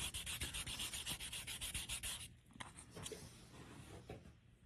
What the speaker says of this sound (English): I sanded right through the ink to the white below